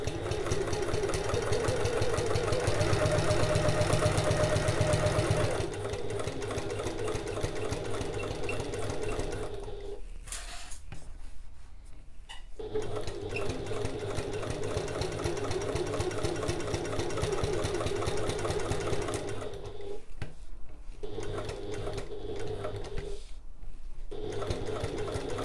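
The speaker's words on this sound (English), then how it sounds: "I'm going to baste this on using my longest basting stitch, my longest stitch on the machine" A sewing machine runs a long basting stitch around a bag panel, starting where the foam begins, with a steady mechanical whir that carries on for long stretches and breaks off twice for brief pauses before resuming.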